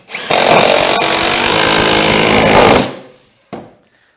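A power drill drives a screw into wood while building sawhorses: one loud sustained whirring burst of about two and a half seconds that winds down, followed by a short second blip.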